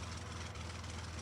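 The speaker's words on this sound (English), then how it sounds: "a harsh stuttering from the engine interrupts your reverie" A motor coach engine stutters and labors under a steady low rumble, with a brief dropout midway before the drone resumes, close and continuous with no voices.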